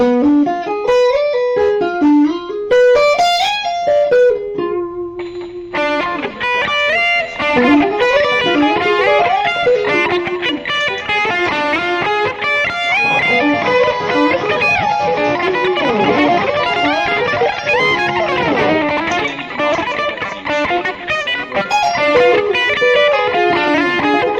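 Heavily distorted electric guitar plays fast, flowing neoclassical runs that climb and fall in rapid sweeping patterns, loud and unbroken.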